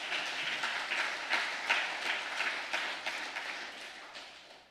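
Audience applause at a Korean reunification lecture, a full room clapping in a continuous even wash that fades slightly toward the end, with no talking over it.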